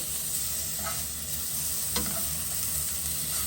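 Oily fish sears in a hot pan, giving a continuous, fairly quiet sizzle. A sharp tick and a brief stir break in partway through, with no talking.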